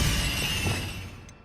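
A Bombarda blasting spell in the video game Hogwarts Legacy, a loud crashing burst with a shattering, glassy edge that fades gradually over about a second.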